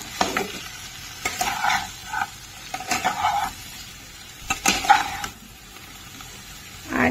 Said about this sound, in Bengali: এবার হালকা হাতে জাস্ট আলুটাকে তেলের মধ্যে নাড়িয়ে নেব।